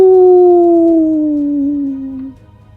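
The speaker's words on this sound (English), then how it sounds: "Now the wolf pup howls" A wolf pup in snow gives one clear, loud howl that slides slowly downward in pitch for about two seconds before fading into quiet.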